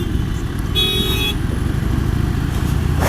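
Horn on a Harley Sportster 883 Superlow sounding once in a short honk, partly buried under loud engine rumble and wind noise while riding in Bangalore traffic.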